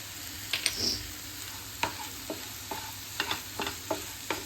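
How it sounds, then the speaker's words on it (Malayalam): Spoon scraping and stirring tomato chutney sweetened with jaggery in a pan, a series of sharp clinks and scrapes over a quiet background sizzle. "ഇടയ്ക്ക് ഇളക്കി കൊടുക്കണം ഇടയ്ക്ക് ഇളക്കി കൊടുക്കണം"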